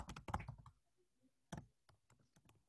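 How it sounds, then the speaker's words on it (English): Typing on a computer keyboard: quick bursts of close, crisp key clicks separated by short pauses, fairly faint, with no talking. "I'm typing as you guys are talking"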